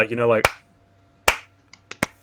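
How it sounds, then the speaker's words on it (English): A person speaks, then a few sharp hand claps follow, spaced unevenly about a second apart in a slow clap, loud and close in a quiet room. "I want to do the slow clap, like."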